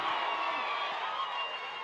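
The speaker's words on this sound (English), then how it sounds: "the crowd goes wild as the Pioneers miss that attempt" Crowd noise at a men's college lacrosse game, CSU against Sacred Heart, as the Pioneers miss a late shot: a steady wash of cheering and roaring from the stands, fairly distant and sustained without a break.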